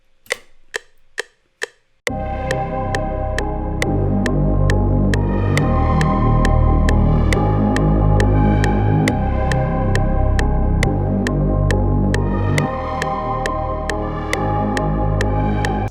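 A deep, sustained synth bass rolls under a full electronic beat made in FL Studio, entering after a couple of sparse opening hits and carrying steadily to the end.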